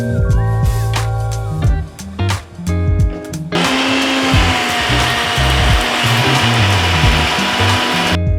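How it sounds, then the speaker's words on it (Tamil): After a few seconds of music, a mixer grinder starts up grinding spice powder with a loud, steady whirring roar that continues to the end. "இதை நம்ம மிக்ஸி ஜாரில் போட்டு அரைச்சி எடுத்துக்கலாம்"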